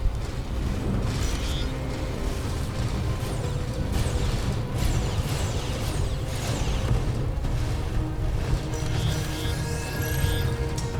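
Dense, rumbling sound effect of the Last Stand crew skill in Starcom: Unknown Space, with whooshes and mechanical clatter, continuous and fairly loud for several seconds.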